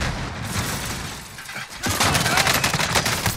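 Call of Duty Warzone gunfire, with a dense crackling fusillade of rapid shots that builds louder in the second half after a brief lull, with no speech over it.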